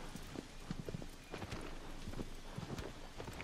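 Horse hooves clip-clop in Shadow of the Colossus, a steady run of soft hoofbeats close up over a constant game background.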